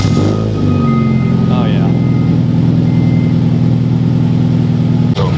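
A 2009 car engine turns over and settles into a steady, loud idle close by, with a short exclamation spoken early on.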